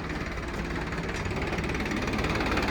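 A tractor engine idles steadily, low and continuous with a rough, knocking throb, loud and close, with no voices over it.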